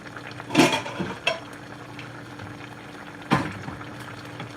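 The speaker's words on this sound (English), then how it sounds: "see how everything is bubbling, see how everything is boiling," Nigerian ogono-style okro soup boils in a pot with a low bubbling hiss and a couple of sharper clinks and splashes near the start and middle, heard up close with no talking.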